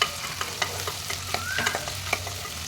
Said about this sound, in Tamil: எல்லா காய்கறிகளும் போட்டுட்டு நல்லா மிக்ஸ் பண்ணி விட்டுக்கோங்க.